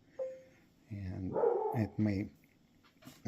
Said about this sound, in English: that's the dog that's currently barking right now